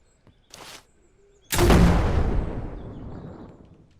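A grenade launcher in the video game SurrounDead fires with a short pop, then a loud, booming explosion follows about a second later and rumbles away slowly over several seconds.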